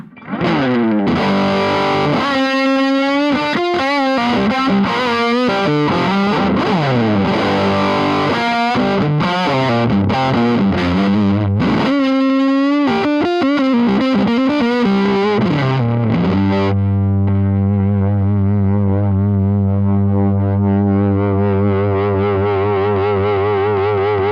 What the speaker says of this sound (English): I've got the Velvet Fuzz set up just to sound great when it hits an overdriven amp